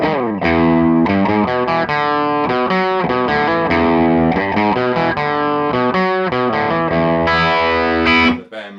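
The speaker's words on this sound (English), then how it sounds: "as opposed to overdrive, which is this" An electric guitar played through an overdrive effect rings out in a steady run of crunchy, sustained notes and chords, loud and alone, with the last chord cut off abruptly at the end.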